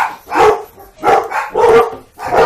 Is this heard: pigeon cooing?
no